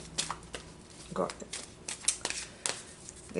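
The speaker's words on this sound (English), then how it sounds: "Okay, so I'm pulling some cards from the Archangel, the" Archangel oracle cards being shuffled and pulled, heard as irregular papery riffles and flicks under a talking voice, close and moderately loud.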